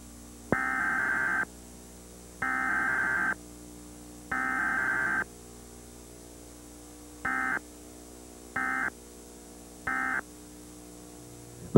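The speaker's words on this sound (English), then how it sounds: "The data tones you have just heard are used in the emergency alert system." A series of Emergency Alert System data tones: three longer bursts followed by three short ones, steady and evenly spaced, with no talking.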